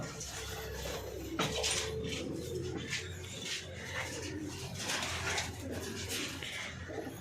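Pigeons coo repeatedly at close range in a loft amid a busy, rustling background, their low calls overlapping throughout.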